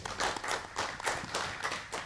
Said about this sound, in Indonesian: Beri tepuk tangan untuk Pak Sutrisno Santoso